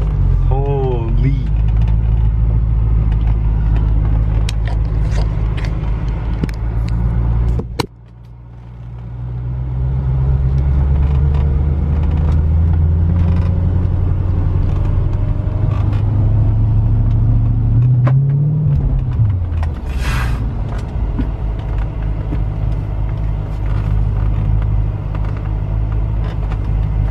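Car engine running steadily at close range during a first drive, a continuous low rumble with a brief dip around the eighth second and rising revs later, with occasional voices over it.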